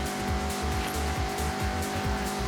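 A Mazda MX-5 in Forza Horizon 6 corners hard, its engine droning steadily while the tires squeal and slide in loud repeated bursts, close and continuous.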